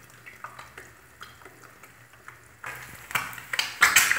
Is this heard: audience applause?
no